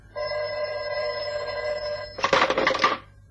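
An old-style telephone bell rings in a radio drama sound effect: one long sustained ring for about two seconds, then a burst of rattling, jangling bell strikes before it cuts off.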